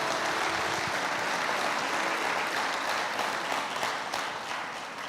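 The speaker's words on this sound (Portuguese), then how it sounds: "Você pode aplaudir o nome de Jesus por esse fundamento bíblico?" Audience applause in a church after a sermon prompt, many people clapping in a thick, continuous wash that stays strong and then begins to fade toward the end.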